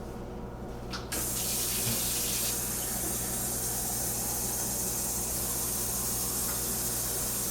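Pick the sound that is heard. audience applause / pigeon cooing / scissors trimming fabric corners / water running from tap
water running from tap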